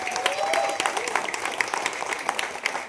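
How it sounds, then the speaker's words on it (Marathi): Audience at a press launch for a Marathi TV serial claps in a dense, lively burst that runs throughout, with a brief voice near the start. "अर्थातच जरा टाळ्या अगदी जोरदार झाल्या पाहिजेत"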